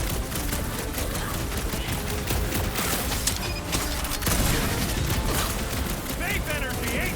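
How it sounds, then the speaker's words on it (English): Enemy blowing up during combat in the Guardians of the Galaxy video game, a dense, loud burst of blasts and gunfire-like crackle running continuously under talking voices. "Pretty sure this guy's gonna explode when we kill him!"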